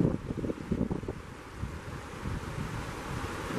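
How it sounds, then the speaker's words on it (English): Gusty wind buffeting a microphone beside a swift river, a steady low rumbling roar with uneven puffs, close and fairly loud, no talking. "Sorry about the wind."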